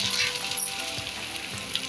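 Marathi cucumber tavsoli, a Konkani cucumber cake, is turned in a pan with a soft, faint sizzle and light scraping for a brief moment, with no voices.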